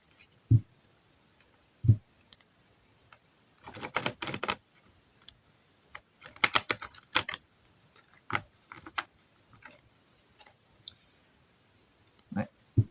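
Tarot cards shuffled by hand, a few soft taps followed by dense clusters of quick riffling clicks and flicks, close up, with quiet gaps between bursts.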